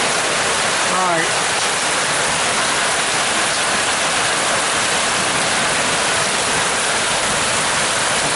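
Rain pours during a rainy day outdoors with a clogged gutter, a loud, dense, unbroken rush of water; a brief voice sounds near the start.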